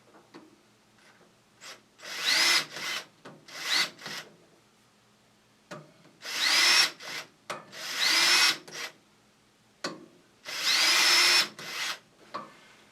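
Power tool chamfering screw holes in a metal sawmill edger part, running in several separate bursts of a few seconds each with short pauses between, close and fairly loud, no talking.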